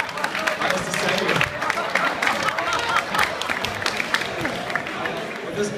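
An audience at a dinner gathering applauds with dense, sustained clapping that fills the whole stretch, loud and steady with slight swells, heard close by.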